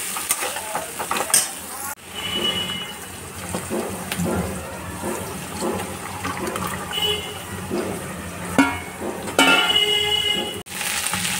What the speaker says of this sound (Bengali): এবার আমি মশলাটাকে দিয়ে দেবো, দিয়ে কিছুক্ষণ নাড়তে থাকবো। তেল যতক্ষণ না ছাড়ছে ততক্ষণ একটু কষাতে থাকবো।